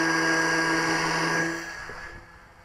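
Small electric motor on a radio-controlled KK Ajax model plane, a rubber-powered free-flight design converted to RC, whines steadily at throttle with a bright tonal hum, then eases off and fades in the last second.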